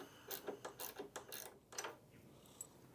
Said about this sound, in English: Taking your 3/16 cut Allen, we will remove the brush lift shoulder bolt.